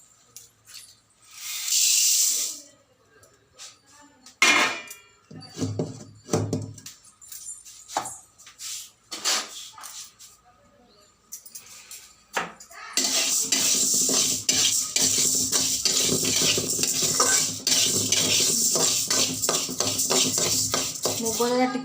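Saag greens fry in a pan with metal utensils clinking and scraping at first, then a steady loud sizzle takes over for the second half as the greens cook.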